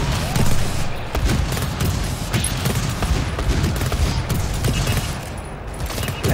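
Sentry cannons in the co-op shooter GTFO fire dense, continuous bursts of loud gunfire with booms and mechanical clatter, filling the whole stretch, while players speak faintly underneath.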